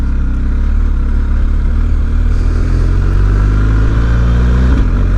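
A BMW R 1250 GS motorcycle ridden on the street in road mode, a loud, close, steady engine drone accelerating through a gear change from first to second, with a slight shift in tone near the end.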